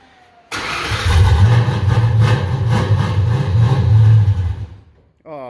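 A car engine starts and settles into a steady idle, loud and close, for several seconds before shutting off abruptly.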